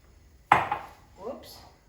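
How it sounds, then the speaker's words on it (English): Bell peppers tumble into a hot frying pan of Greek olive oil with a sudden clattering sizzle that fades, followed by a softer second rustle of stirring. "And into that I'm gonna add all the peppers"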